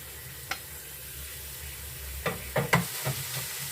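Meat sizzles as it fries in a skillet, with a few sharp scraping knocks as it is stirred and broken up, close and moderately loud.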